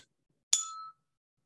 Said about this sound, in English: when I strike this tuning fork